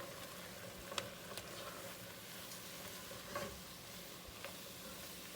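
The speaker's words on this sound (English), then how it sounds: "I'm just going to cook this flour out" Half a cup of flour cooks in oil in a pan for a roux, with a faint, steady sizzle and occasional light scrapes and clicks of stirring, no talking.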